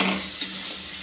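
Posto curry cooking in a pan, a brief burst of sizzling with a couple of soft stirring scrapes, close and alone.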